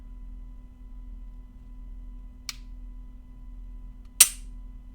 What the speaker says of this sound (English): And then you got to squeeze the trigger.